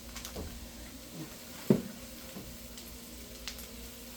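Butter and eggs sizzling in a frying pan, a soft, steady crackle close by with a few sharp taps and clinks of a utensil against the pan.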